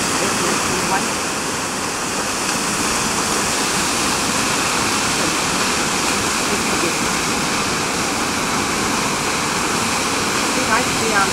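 A waterfall roars loudly and continuously close by, a dense broadband rush that hides everything else.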